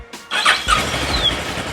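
A 2013 Kawasaki Versys 650 motorcycle starting after a magnetic coil refit: a brief starter whine and squeal, then the engine catching and idling close by.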